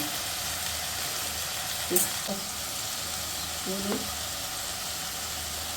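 Prawns sizzle steadily in a pan for a home-style prawn curry, a soft continuous frying hiss with a couple of brief stirring scrapes and clinks.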